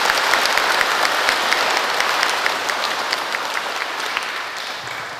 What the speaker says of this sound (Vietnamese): Chúng ta cùng cảm ơn Cha bằng một tràng pháo tay thật nồng nhiệt